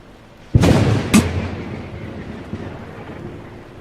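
Two sharp thunderclaps land close together, then a long rumbling roll slowly fades beneath steady rain.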